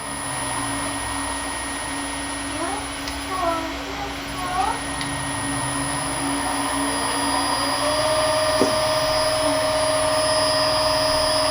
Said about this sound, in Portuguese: O motor vai fazer a reversão agora